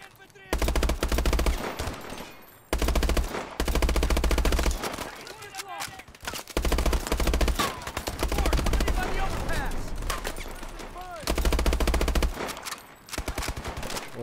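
Medium machine guns fire in sustained loud bursts during a Call of Duty: Advanced Warfare firefight, with brief pauses between volleys and game audio layered throughout.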